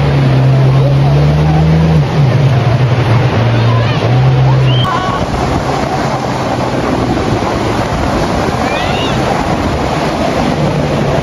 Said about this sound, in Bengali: ওইখানে আমরা যে বোটগুলা দেখতে পারবেন, ওই বোটগুলাতে 300 টাকায় একটি রাইড দিয়ে দিবে।